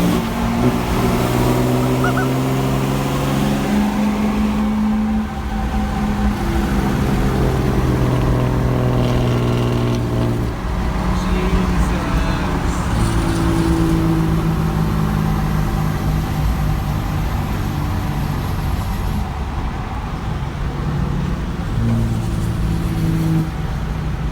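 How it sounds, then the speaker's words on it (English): A Cummins diesel truck driving and revving, its engine droning and rising in pitch through gear changes, loud and close as from inside the cab, with faint voices now and then. "now we'll go and take this Cummins out here and take it for a rip"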